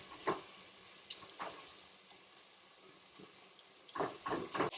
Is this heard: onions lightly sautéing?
yes